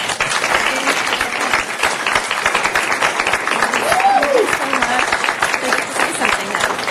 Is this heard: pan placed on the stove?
no